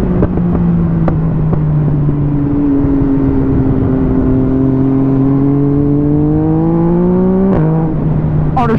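A loud motorcycle engine revs steadily upward, with sharp brief interruptions as the quickshifter changes gears quickly, then the engine keeps pulling.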